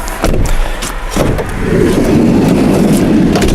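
Mercedes-Benz 3.0 liter diesel in a 2013 Winnebago Era 70A motorhome runs steadily at close range, a low rumbling hum that grows fuller after a brief door-like clunk, with no talk.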